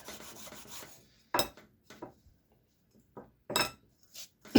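Medium or soft bristle brush scrubbing disassembled AR rifle parts, producing several short, rasping scrub strokes in separate bursts with quiet pauses between, close and fairly clear.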